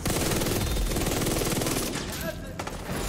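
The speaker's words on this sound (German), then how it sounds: "ist ja einer, der auf mich schießt" Sustained heavy automatic gunfire in the video game The Division 2, loud and continuous throughout, with a brief dip near the end and faint voice under the shooting.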